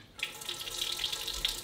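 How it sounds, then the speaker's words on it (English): Rainwater pours from a tap into a 7-gallon plastic water jug, a soft steady splashing stream that starts abruptly after a brief quiet moment. "You can show them how we used to fill them up with rainwater."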